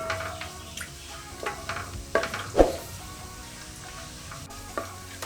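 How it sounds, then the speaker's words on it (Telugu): Whole garam masala fries in hot oil in a pan for mutton keema, making a steady close sizzle with a few stirring knocks and clatters scattered through it. "ఈ ఆయిల్ వేడెక్కిన తర్వాత హోల్ గరం మసాలా ఇందులో వేసుకుందాం. ఇది బాగా వేయించుకుందాం."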